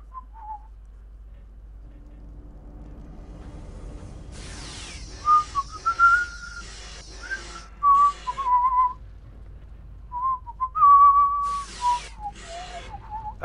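A person whistles a melody in several separate phrases, clear and fairly close, over a quiet low background hum during video game play.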